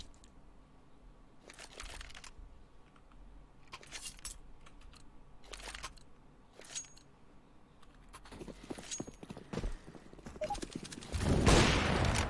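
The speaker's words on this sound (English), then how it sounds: "Will, however, get shot by that USP, only for 6 damage." Pistol fire from a USP in a Counter-Strike professional match, heard as several short sharp shots scattered among other game sounds, with a louder burst of noise near the end.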